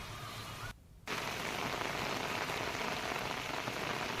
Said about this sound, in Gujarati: તો હાલ પણ ધોધમાર વરસાદ ચાલુ છે.